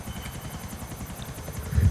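Aircraft engine in Grand Theft Auto IV, a steady rhythmic pulsing drone like rotor or propeller beats, moderately loud and swelling slightly at the end, with no talk.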